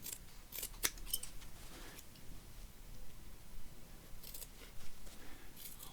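Scissors snip through fabric while a Christmas stocking is made, a few crisp close cuts with soft rustling between them and no talk.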